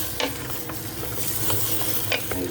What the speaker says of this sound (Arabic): تحمس بالطبع شويه مع البطاطا